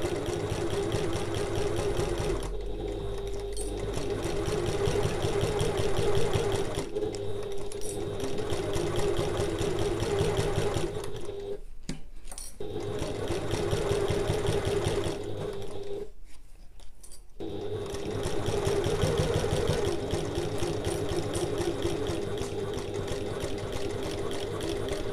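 A home sewing machine stitching a large fabric bag runs in steady, close whirring bursts with a fast mechanical rhythm, stopping briefly several times between seams and back stitches.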